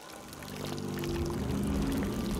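Water in the video game Layers of Fear 2 sounds as a steady rushing pour, like a waterfall, that swells and then holds loud and close, with no one speaking.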